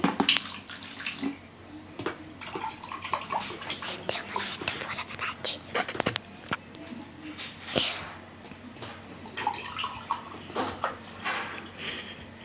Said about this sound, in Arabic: انا هحط ميه سليق الليمون. هحط 4 كوبايات معاكم